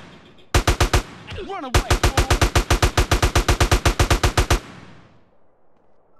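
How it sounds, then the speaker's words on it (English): Combat shotgun fire in GTA San Andreas: a short burst of rapid, loud, evenly spaced blasts, a brief pause, then a longer steady volley of about twenty shots before fading out; a voice speaks briefly in the pause. "It seems someone has a combat shotgun here."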